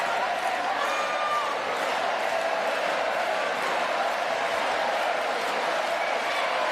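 A predominantly French crowd at a Paris 2024 Paralympic goalball match cheers and claps in a steady, dense roar that holds evenly throughout, with a commentator's voice faintly woven in.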